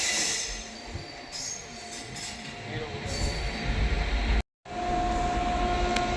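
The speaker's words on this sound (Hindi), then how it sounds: "पीछे से आ रही है सिकंदराबाद दुरंतो एक्सप्रेस जो अपनी ओवरटेक करेगी अपने प्रयागराज स्पेशल को" Secunderabad Duronto Express passing alongside the Prayagraj Special, a steady loud rumble of wheels and carriages with rail squeal, broken by a brief gap as the overtaking train roars by close.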